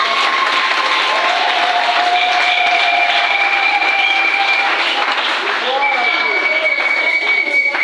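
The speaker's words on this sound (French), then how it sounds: "Oh, acclamons pour le Seigneur Jésus." A church congregation applauds in sustained, dense clapping that holds steady from start to finish, mixed with raised voices and sung or shouted tones.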